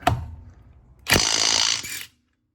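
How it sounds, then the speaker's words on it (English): A DeWalt 20V brushless 1/2-inch impact wrench tightening a fastener: a short click, then about a second of loud, close rattling hammering that stops abruptly, followed by silence. "take one off and then put a little more impact on it and see how that compares when tightening it up"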